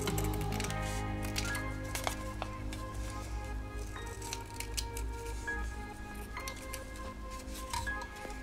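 Scissors snip through paper or craft material to cut out a small house shape for a keychain, making a series of quiet, close, irregular crisp cuts with faint rustling between them.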